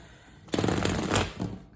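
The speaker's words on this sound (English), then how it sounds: "So I'll just give these cards a good shuffle." A quick burst of rapid riffling as a deck of tarot cards is shuffled, close and fairly loud, lasting about a second with no talking.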